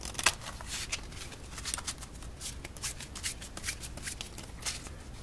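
A deck of playing cards being shuffled up close, with rapid riffling bursts and soft flicks repeating steadily throughout.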